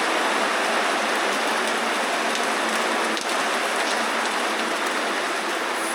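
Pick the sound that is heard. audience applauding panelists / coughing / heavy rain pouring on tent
heavy rain pouring on tent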